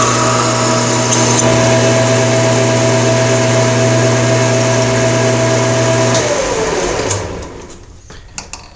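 A lathe under power feed cuts a thread, a loud steady whine and motor hum that runs for several seconds and then winds down as the machine stops, followed by faint clicks.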